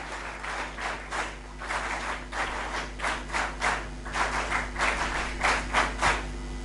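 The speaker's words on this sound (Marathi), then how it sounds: "एकदा जोरदार सरांसाठी टाळ्या होऊ द्या" An audience at a school foundation day ceremony claps in steady rhythmic bursts, moderately loud and continuous, with no talking over it.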